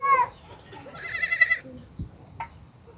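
A day-old baby goat gives a few short, high bleats close by, with a quiet outdoor background and brief soft sounds between the cries.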